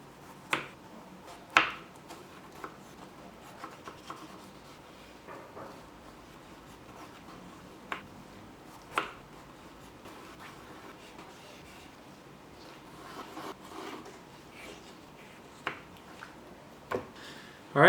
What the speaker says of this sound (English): I'm cutting lengthwise like this, and then going across it to form little cubes